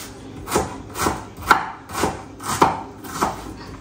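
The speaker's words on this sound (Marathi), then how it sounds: "तर मी काय करते, कांदा कट करून याच्यामध्ये काढून घेते" A knife chops onion on a board for bhaji, with about seven steady, evenly spaced cuts about half a second apart, close and clear with no talking.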